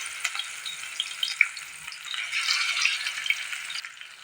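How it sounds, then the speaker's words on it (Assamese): Fish pieces frying in oil in a wok over a gas flame, a bright crackling sizzle with light rattling and occasional pops, swelling louder midway, without speech. "ইয়াতে প্ৰথমতে মই মাছকেইপিচ ভাজি লওঁ"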